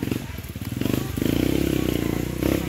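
A single motorcycle engine pulses with a steady rapid throb on a rocky trail near a waterfall in Guinayangan, Quezon Province, close and loud, with crackling and clattering from stones under the tires.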